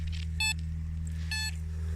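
A metal detector gives two short electronic beeps, about a second apart, triggered by interference from a nearby phone, over a low steady hum with no talking.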